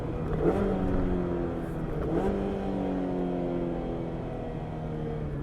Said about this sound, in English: And then a few downshifts as well.